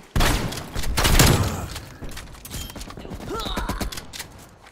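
Light machine gun fire in Call of Duty: Black Ops Cold War, a close, loud opening burst of rapid shots followed by scattered shorter volleys and mechanical clatter of the game's firefight.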